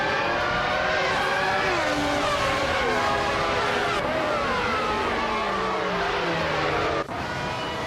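Jordan 195 Formula One cars roar in a racing video game, several engines overlapping with rising and falling whines as cars pass close by, loud and continuous throughout.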